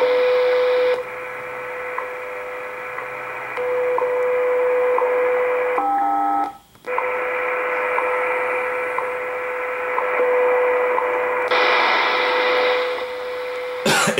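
A shortwave receiver being tuned puts out a steady buzzy tone with a hum underneath, briefly cut off near the middle and turning brighter toward the end, loud and continuous, no talk.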